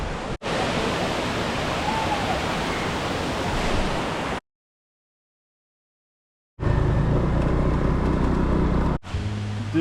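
A waterfall in Vietnam roaring as a dense, steady rush of water, loud and close, broken by a few seconds of complete silence before the roar resumes.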